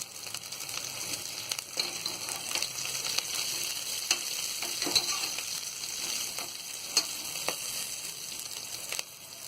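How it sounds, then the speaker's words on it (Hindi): Steady sizzling of green chilies frying in hot oil, with occasional crackles and spatula scrapes, close and continuous with no talking. "और हरी मिर्ची को भी हम थोड़ा तल लेंगे।"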